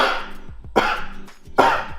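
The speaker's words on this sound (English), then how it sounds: "I'm supposed to cough deeply about 4 times, so I'm gonna try to cough." A person gives three deep, forceful coughs at even intervals, close to the mic, as part of a saliva test. There is no other sound between the coughs.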